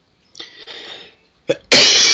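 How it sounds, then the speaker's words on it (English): Human coughing: a raspy burst followed by a short gap, then a sharp cough and a loud forceful cough at the end, close and prominent with no speech. "Sorry for coughing."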